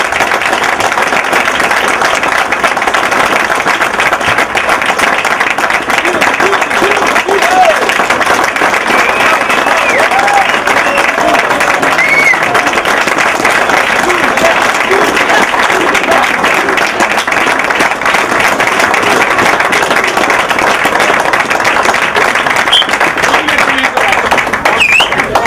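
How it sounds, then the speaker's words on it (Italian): Crowd applause at a youth football match for under-13 teams, sustained dense clapping from a large gathering that stays loud and even throughout, with scattered voices in the background. "un grande applauso per loro"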